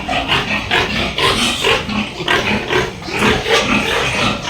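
Several pigs grunting and oinking close by in a continuous, overlapping chorus of rough snorts and squeals.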